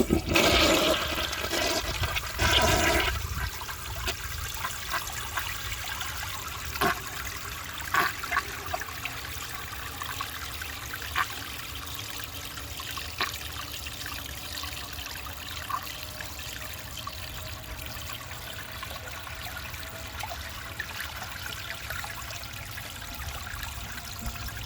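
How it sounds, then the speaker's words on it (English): A 1966 Crane Whirlton low-tank toilet with a clogged siphon jet flushes up close. It starts with a loud rush, then settles into a long, steady trickling and gurgling refill with small splashes. "let's see how it flushes with a clogged siphon jet"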